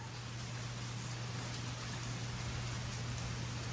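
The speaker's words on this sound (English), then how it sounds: "It's a, it's raining. It's pouring." Steady rain pours outside, a continuous hiss of drops on surfaces heard faintly and evenly, with a low constant hum beneath and no talking.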